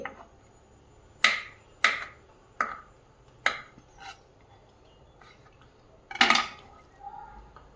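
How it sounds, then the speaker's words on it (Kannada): A knife chopping banana into small pieces on a board, with about seven sharp, separate knocks at irregular intervals, close and distinct over a quiet background. "ಹೀಗೆ ಬಾಳೆಹಣ್ಣನ್ನ ಚಿಕ್ಕ ಚಿಕ್ಕ ಕಟ್ ಮಾಡ್ಕೊಳ್ಳಿ."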